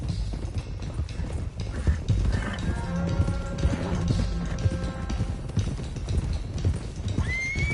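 Several horses gallop in Red Dead Redemption 2, a dense, continuous drumming of hooves with a clear neigh rising above it, steady and close with no talk.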